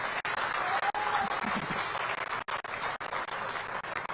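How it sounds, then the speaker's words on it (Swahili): An audience at a stadium-construction signing ceremony for a football club applauds, the clapping continuous but fairly subdued, broken by a few sharp dropouts, with faint voices mixed in. "Tuwapigie makofi tafadhali"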